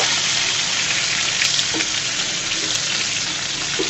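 Fish deep fries in hot oil, a loud, dense and constant crackling sizzle heard close up with no break.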